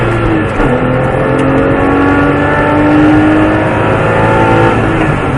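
Porsche 997 GT3 Aerokit race car accelerating hard around the Mettet circuit, a loud, steady engine roar that climbs in pitch through the revs, close and continuous with no talk.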